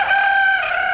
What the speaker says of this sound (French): Du fait de ma production de poulet, comme vous avez pu les entendre, de poulet de chair